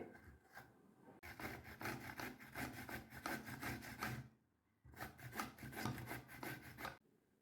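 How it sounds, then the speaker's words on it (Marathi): Raw green mangoes are grated by hand in a home kitchen, giving a steady rasping scrape of quick, regular strokes at close range, with one short pause midway and no talking. "मी याच प्रकारे सगळ्या कैऱ्या किसून घेते"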